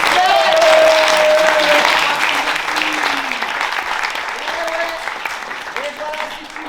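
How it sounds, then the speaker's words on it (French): A crowd claps loudly at a student improv show, dense applause fading slightly over several seconds while voices talk and call out on top. "La vache, on l'applaudit de ouf,"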